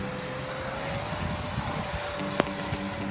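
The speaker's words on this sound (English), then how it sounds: "It's an Avanti jet." An Avanti ducted electric fan model jet takes off at a radio-control flying field, a steady high whine of the fan holding throughout, with a brief sharp click partway through.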